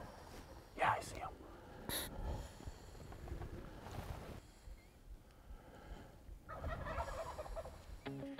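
A wild turkey gobbles in a sharp burst, with later faint gobbles, amid hushed whispering and breezy outdoor noise during a turkey hunt.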